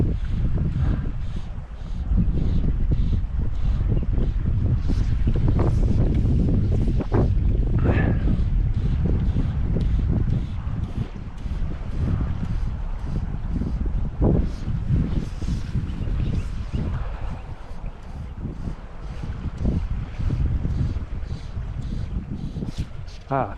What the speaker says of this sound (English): The wind is really getting up now.